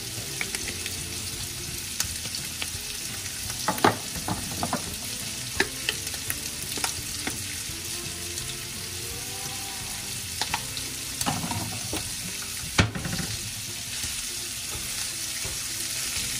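Seasoned ground meat sizzles steadily in a pan as it browns for pizza topping, with scattered scrapes and taps of a stirring utensil, close and continuous and no talk.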